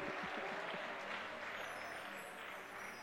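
Congregation in a church applauding and cheering for Jesus, a dense sustained wash of clapping and crowd noise filling the room throughout.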